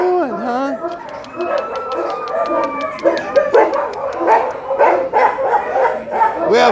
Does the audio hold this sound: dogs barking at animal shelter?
yes